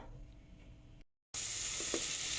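Cauliflower sizzling as it fries in a pan, a steady bright hiss that cuts out briefly and then returns louder and closer, with no voices.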